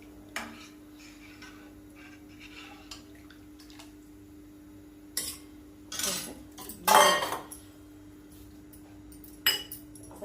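Metal spoon scraping and clinking against a pot while rava papad batter with cumin is stirred continuously, sparse soft ticks building to a few louder scrapes and clanks, close by.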